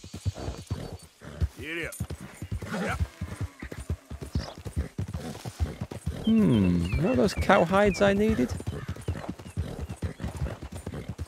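A horse in the video game Red Dead Redemption 2 grunts, puffs and pants with steady hoof clip-clop underneath, close and loud, while someone talks over it in places.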